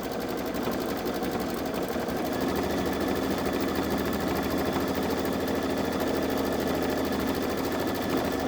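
A Babylock Solaris Vision embroidery machine stitches a monogram letter with a steady, fast mechanical whirr and rhythmic needle chatter, close and continuous throughout, with no talking.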